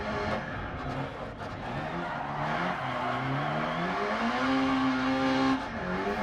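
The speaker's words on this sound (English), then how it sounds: "I approached the hairpin and managed to do a very natural feeling Scandinavian flick" A rally car in DiRT Rally flicks through a hairpin, engine droning steadily with rising and falling revs as tyres scrub and skid, continuous and fairly loud with no voices.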